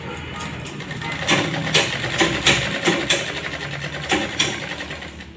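A sewing machine stitching a lined blouse runs in bursts of rapid mechanical clatter that speed up and pause, close and fairly loud, with no talking.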